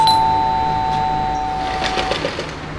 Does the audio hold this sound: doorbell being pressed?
yes